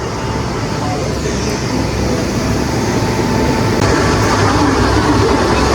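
Loud, continuous rumble of a train at a railway station in Goa, with a dense wash of mechanical and crowd noise close by.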